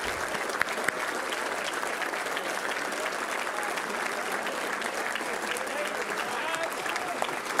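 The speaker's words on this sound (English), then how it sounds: "Please, let's give a round of applause to them." An audience at a touchdown club awards banquet applauds, a dense steady clapping from a large crowd with no pause, filling the room.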